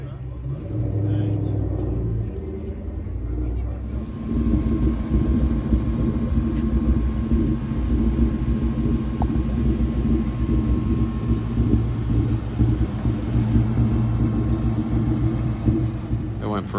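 A Ford Mustang SVT Cobra engine gives a loud, deep rumble close by, steady with throbbing low tones and a brief rise in revs early on.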